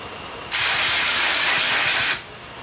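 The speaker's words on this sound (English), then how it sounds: "Takes a few sprays." BRITE organics liquid hair chalk sprays from a can in one steady, loud hiss lasting about a second and a half, close up, then cuts off.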